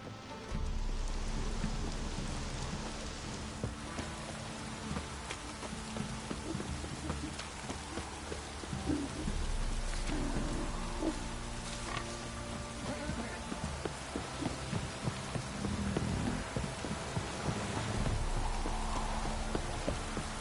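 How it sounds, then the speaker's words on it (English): Heavy rain downpour in a PS4 video game, a steady dense hiss running the whole time alongside game sounds, with hints of horse hooves and low rumbles beneath. "This downpour's a bastard, it is."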